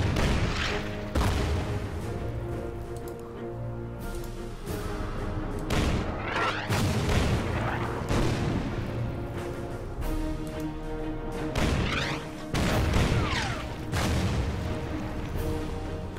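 Artillery bombardment in the World War II strategy game Order of Battle: Rising Sun at Bataan, a series of heavy booms and rumbling blasts spaced through a continuous dense din of battle.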